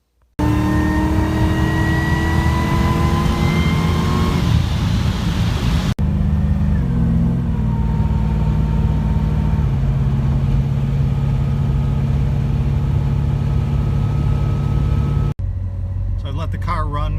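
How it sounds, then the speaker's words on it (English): A Chevrolet Monte Carlo SS with a swapped LS V8 idles steadily nearby, a loud continuous low rumble that shifts pitch as revs drop, settling into an even idle. "Let the car run for a good amount of time"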